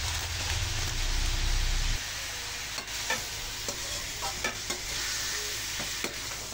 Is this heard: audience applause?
no